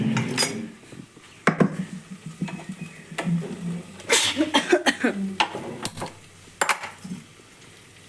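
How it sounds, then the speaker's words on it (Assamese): A metal kadai is set down on a home kitchen stove, giving a few sharp clanks and scrapes among other quiet utensil clatter, with a voice talking in the background. "কেৰাহী পাতি দিলোঁ"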